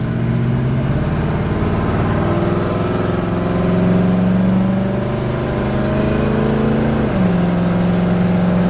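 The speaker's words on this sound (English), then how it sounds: "It's amazing how much different the exhaust sounds." A 454 dually pickup's exhaust rumbles steadily at a low, even idle, its tone dipping slightly near the end. The engine stays close and loud, with no voices.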